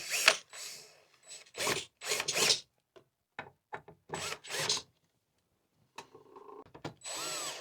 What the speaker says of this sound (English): With the screw gun, drill, find the matching holes, and lock down.